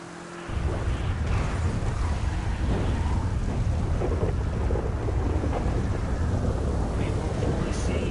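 Heavy rain and rumbling thunder fill a GTA 5 race, a dense, loud, continuous roar of wind-like noise that starts abruptly and holds steady throughout.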